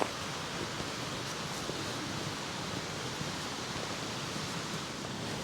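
Bistrica stream flowing at a drinking water intake near Preddvor, a steady close rush of water that stays even throughout, with no talk.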